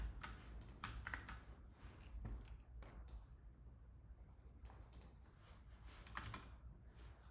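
Keys clatter on a computer keyboard while binary search code is written, a quiet, uneven run of soft taps and short bursts close by, with brief pauses.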